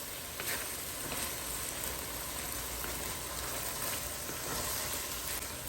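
Zucchini noodles and vegetables fry in a pan with a soft, steady sizzle, an even hiss with faint pops throughout, fairly quiet and unbroken, with no speech.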